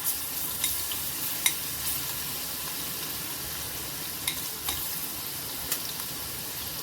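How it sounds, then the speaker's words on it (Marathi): Coarsely crushed garlic hits hot oil for a noodle-and-paneer frankie, making a soft, steady hiss punctuated by a few sharp clinks of a utensil against the pan. "आता आपलं तेल छान तापलेलं आहे आता आपण हा ही लसणा लसूण ओवडधोबड वाटलेला आहे तो आपण याच्यात घालून घ्यायचा आहे"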